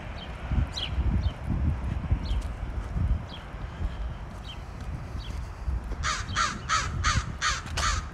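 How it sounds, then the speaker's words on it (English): Crows caw repeatedly at moderate distance in a series of harsh calls beside West Victoria Avenue and Wascana Creek in Regina, heard over steady outdoor background noise and rustling. "Crows always have something to say."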